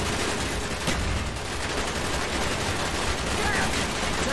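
Rapid automatic gunfire from the video game Call of Duty: Black Ops, dense continuous bursts of shots with loud cracks at the start, under intermittent talking.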